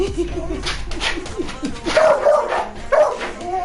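A dog barks and yips several times at close range, uneven bursts with whimpery tones mixed in.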